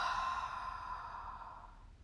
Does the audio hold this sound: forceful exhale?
yes